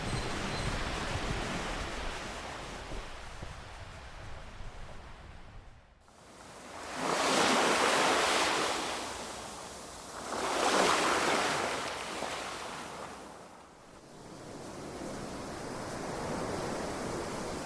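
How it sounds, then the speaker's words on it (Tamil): Ocean surf rolls onto a beach at sunrise, two big waves swelling and breaking in slow succession over a constant wash of water and some wind buffeting the microphone. "அலைகளோட சத்தம்"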